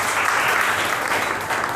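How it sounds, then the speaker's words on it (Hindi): Audience clapping at a talk or class event, a steady dense burst of applause filling the short stretch at even loudness, with no voices over it. "ताली बजाओ ना।"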